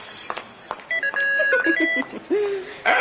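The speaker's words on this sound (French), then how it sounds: "On a intégré une alarme à nos poudriers, en fait. C'est pratique, elle sonne dès que notre front commence à briller." An alarm built into a powder compact in a cartoon setting rings as a series of bright electronic beeps and warbling tones, played with cartoon sound effects and brief voice sounds around them.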